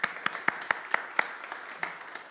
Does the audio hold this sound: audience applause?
yes